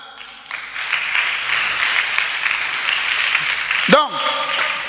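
An audience claps steadily, a dense, moderately loud burst of applause that builds quickly and holds, with a brief voice breaking through near the end.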